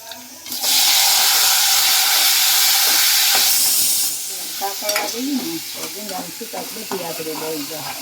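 Gunda (glue berries) hit hot oil seasoned with cumin, hing and turmeric and erupt in a loud, close, hissing sizzle that settles after a few seconds into softer frying and stirring clatter.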